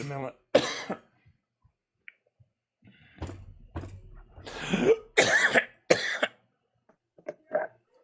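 Several harsh, close coughs in a broken series, with throat-clearing sounds and short pauses between bursts.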